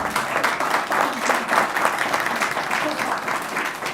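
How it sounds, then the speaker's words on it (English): Round of applause at a Port of Seattle Commission meeting, a continuous dense clatter of many hands clapping at fairly close range, holding steady throughout. "So can we just give a round of applause for these women here?"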